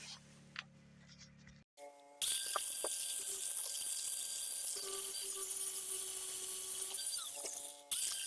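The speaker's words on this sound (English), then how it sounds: "I'm going to be using the mini grinder once again." A mini grinder smooths a guitar body during a build, a steady high-pitched whine running for about six seconds after a brief start, close and loud, with no talking.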